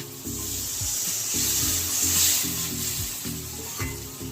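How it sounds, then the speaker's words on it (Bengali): Fish egg fritters frying in a pan with potatoes as water is added, giving a steady close sizzle with scraping stir sounds and utensil knocks throughout. "এবারে জল দিয়ে দেব।"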